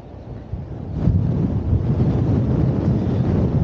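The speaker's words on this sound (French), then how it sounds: "aujourd'hui, le vent, ça souffle" Strong coastal wind at Tarifa buffets the microphone in a continuous low roar, gusting louder after the first second, with a surf-like wash underneath.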